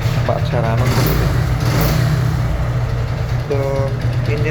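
A kick-start, carburetor motorcycle idles with a steady low rumble, running smoothly close by throughout while people talk over it.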